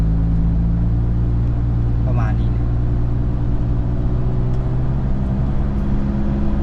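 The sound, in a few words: city bus engine rumbling in street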